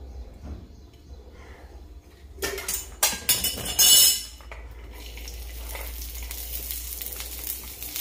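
Two cloves of garlic fry in oil in a pan, heard first as a quiet low hum. A short loud burst of sizzling and clattering utensils follows, then a softer steady crackle.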